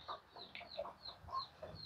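Farm chickens cluck in short, repeated calls close by, a scattered series of bright clucks with no voices.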